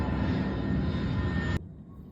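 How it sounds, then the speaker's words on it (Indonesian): A fixed-wing airplane passes overhead with a loud, steady broadband roar that cuts off abruptly partway through, leaving only quiet background. "Sebentar, ada iklan pesawat."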